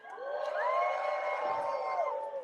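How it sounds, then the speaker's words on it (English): Crowd of onlookers at a couple's event cheering and whooping to encourage participants, a loud sustained burst of voices with rising shouts lasting a couple of seconds. "All right, let's cheer them on a little bit."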